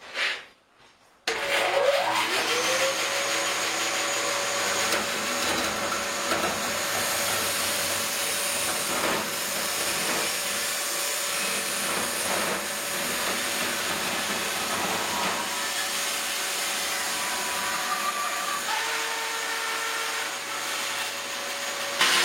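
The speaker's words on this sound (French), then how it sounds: "je taille la même chose, des planches de pommier" A saw cuts apple wood planks with a continuous loud roaring whine and steady tonal hum that runs for about twenty seconds after a brief start-up.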